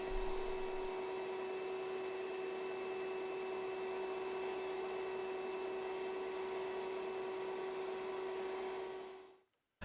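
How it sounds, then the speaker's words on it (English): A disc sander grinds a carved scrap-wood crankbait lure body to shape, a steady close-up whirring hum with rough rasping friction that runs continuously and then cuts out abruptly near the end. "I'm gonna be finishing off the profile with my disc sander"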